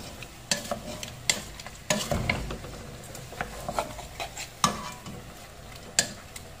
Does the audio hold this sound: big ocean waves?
no